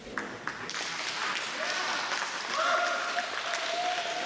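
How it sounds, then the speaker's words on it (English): Steady applause from an audience at a crokinole world championship tournament, a sustained patter of many hands clapping at moderate distance with no talk over it. "We hear some applause."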